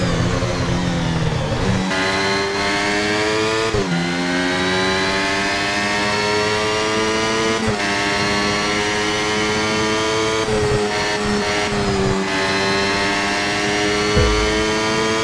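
Formula One race car engines from the F1 Mobile Racing video game scream at high revs in one continuous loud whine, with sharp pitch drops and climbs at each gear change and no talking over it.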